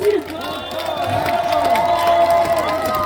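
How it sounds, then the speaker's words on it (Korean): A festival crowd at an outdoor summer sweetfish festival cheers and shouts loudly, mixed with clapping, children's whoops and overlapping voices, with a sustained tonal hum running through the noise. "박수 한번 다시 크게 쳐주시면 감사하겠습니다."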